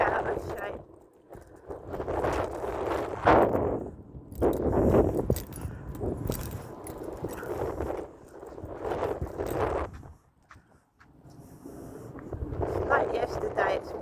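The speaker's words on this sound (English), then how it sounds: "It's like yesterday, it's windy." Outdoor wind on a morning walk buffets the microphone in heavy, uneven low gusts that come and go, with brief lulls between them.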